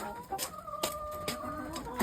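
Soft, irregular clucking from a few chickens nearby, with brief sharp clicks and noises scattered through.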